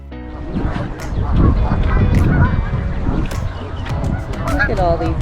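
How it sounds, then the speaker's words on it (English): A flock of geese honks near the Niagara Falls spillway, overlapping calls rising over a steady wash of rushing water, with a person speaking briefly among the birds. "Look at all these geese."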